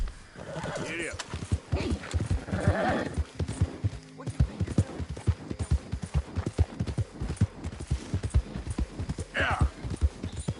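A horse gallops with rapid, close hoofbeats in Red Dead Redemption 2, with neighing and whinnying bursts over the rhythm and a rider speaking.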